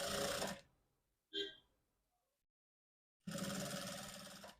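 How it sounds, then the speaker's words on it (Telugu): Two bursts of a sewing machine fitted with a normal foot stitching piping along cloth, a steady close whirring hum with a short noise and a pause between the bursts. "ఇలా పెట్టేసుకొని మొత్తం చివరి వరకు కుట్టు వేసేసుకుందాం"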